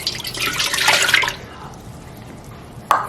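A cup of warm water is poured into a bread machine pan for homemade Subway-style bread dough, a bright splashing pour lasting about a second and a half, then quiet, with a short drip or clink near the end.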